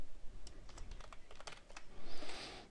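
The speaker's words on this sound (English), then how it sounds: "under password, type in your Gmail password" Short close-up typing of a Gmail password on a computer keyboard, with a quick run of light key clicks over a steady background hiss.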